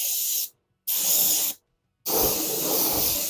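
An aerosol can sprays fluorescent orange paint onto an R/C car body in three close, loud hissing bursts separated by short silent pauses.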